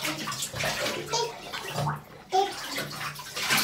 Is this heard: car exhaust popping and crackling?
no